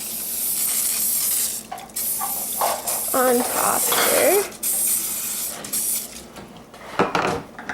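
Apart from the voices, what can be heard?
spraying coconut oil from spray can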